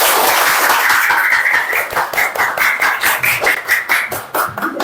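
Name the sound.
students applauding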